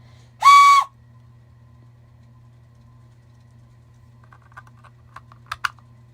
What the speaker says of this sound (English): And this one is the smallest whistle,